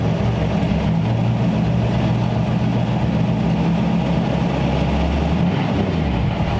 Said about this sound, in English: this thing isn't warmed up yet, so it idles a little low